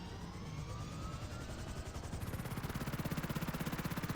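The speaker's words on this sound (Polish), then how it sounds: "To otwarty helikopter." An open police helicopter in Grand Theft Auto V flies with a loud, dense rotor roar that settles into a fast, even chopping beat as it speeds up.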